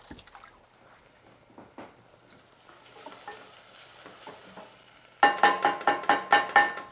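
Sauce in a pan sizzles softly while being stirred, then gives way to about seven loud, rhythmic scraping strokes close by.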